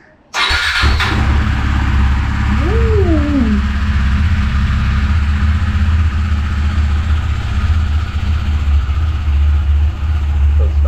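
KTM RC 390 motorcycle, being restored after an accident, starts with a sudden catch and settles into a loud steady idle, a brief blip of revs early on, then an even rumbling idle up close.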